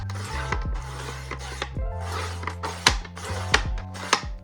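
Edges of printed sticker sheets trimmed in a small craft studio: a series of dry rasping strokes, each a short scratchy sweep, repeating steadily and close over a low background hum.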